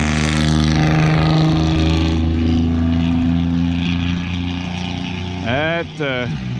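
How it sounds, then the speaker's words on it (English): A loud, rumbling engine drone holds steady, then a sharp rising-and-falling exhaust roar from a straight-pipe, no-muffler vehicle sweeps past near the end. "That sounded like almost like a no muffler kind of exhaust."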